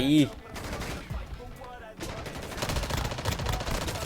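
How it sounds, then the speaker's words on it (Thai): Gunfire in the Call of Duty Warzone Mobile game, a dense run of loud, close shots with a brief pause, mixed with game effects. "นี่ก็ยิงจังเลยนะ"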